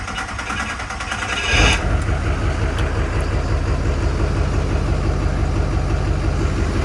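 Project truck engine cranking and catching after fuel priming, then settling into a loud, steady, close idle with a rough rhythmic rumble.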